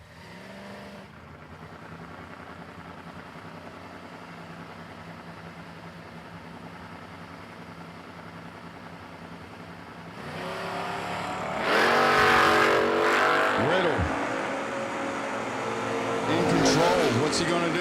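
Drag racing cars, one of them a Camaro, idle and rumble at a distance before engines roar louder on launch, while an announcer talks over the racing.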